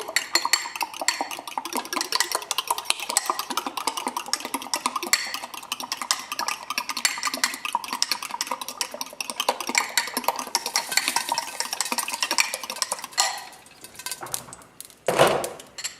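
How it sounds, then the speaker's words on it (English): Eggs whisked very fast in a bowl, a dense rapid clicking and scraping that runs continuously with a brief louder knock near the end, no talking. "we're actually going to mix our eggs up even more"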